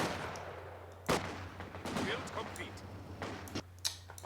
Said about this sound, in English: Oh, there goes the first mortar round